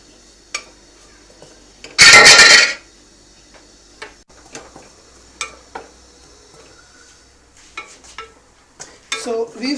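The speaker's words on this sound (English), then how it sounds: "Now we're gonna add the 2 tablespoons of maida in it. We're gonna mix it very well. We're gonna roast it a little bit in butter" Flour (maida) stirred into melted butter in a pan and roasted over fairly high heat: a loud burst of sizzling scraping near the start, then scattered spoon taps and clinks against the pan.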